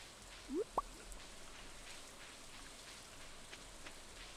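Steady soft rain in Stardew Valley on a beach farm in fall, a gentle continuous patter with faint drips, plus two brief rising chirps early on.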